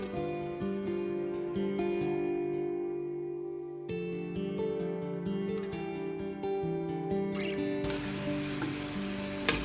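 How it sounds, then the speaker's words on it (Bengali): Sandesh samosas fry in oil on medium heat with a steady, close sizzle that holds for the whole stretch, swelling into a brighter, louder hiss near the end; no one speaks. "হাই হিটে ভাজা যাবে না, মিডিয়াম হিটে ভেজে নিতে হবে।"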